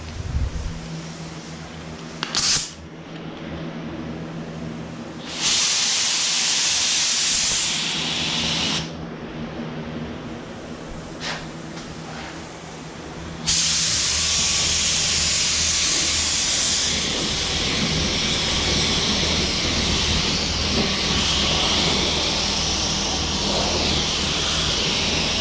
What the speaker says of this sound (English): I got the black base in the gun right here. We're gonna start spraying some color.